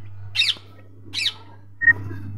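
A parrot lets out three loud, harsh squawks, spaced apart, over a steady low hum.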